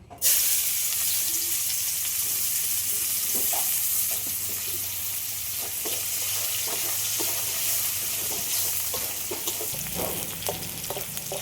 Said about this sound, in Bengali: ভাজা তেলের মধ্যে পেঁয়াজ কুচি দিয়ে দেবো